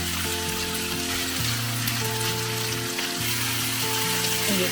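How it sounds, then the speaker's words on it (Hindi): Chicken roasting lightly on a hot tawa gives a steady, close sizzle throughout, with a constant tonal hum running beneath it and no talking. "बस हल्का सा इसमें इसको रोस्ट करना है, बहुत ज्यादा नहीं।"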